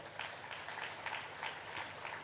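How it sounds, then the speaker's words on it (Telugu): An audience claps at a meditation gathering, a soft, fairly distant patter of many hands with faint pulsing rhythm lasting a couple of seconds. "గట్టిగా క్లాప్స్ కొడదాం"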